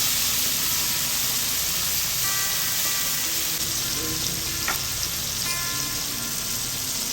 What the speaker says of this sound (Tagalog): Isunod na ilagay ang nagayat na kamatis. Halo-haluin hanggang ito ay mama.